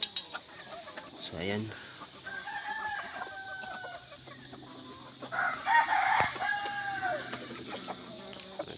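Pet roosters crow repeatedly with scattered clucking from hens and other fowl in a backyard flock, loud and close, while someone talks briefly at the start.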